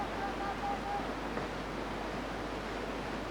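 Fast whitewater churning and boiling around a racing canoe on a slalom course, a steady broad rushing roar with no clear breaks.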